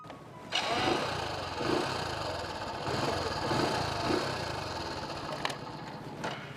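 A repaired motorcycle engine runs close by, holding a steady mid-pitched idle with a slight rhythmic pulsing that starts abruptly and keeps going until it cuts off near the end.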